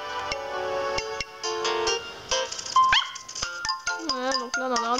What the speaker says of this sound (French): je vais mettre le son après pour que vous entendiez un peu l'aboiement des chiots